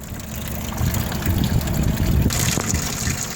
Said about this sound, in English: it lets water in.